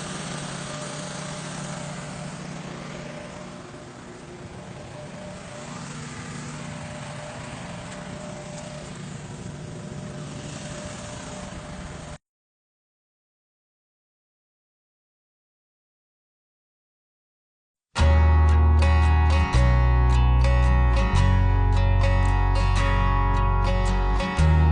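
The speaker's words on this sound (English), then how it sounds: "So we're going to finish gouging this." Arc gouging on a cracked landfill machine bucket gives a loud, steady, harsh roar for about twelve seconds, followed by a silent gap and then music.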